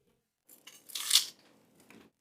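Dry papery skin is peeled off an onion by hand in a single close crackling tear that swells and then fades. A fainter rustle follows in near silence.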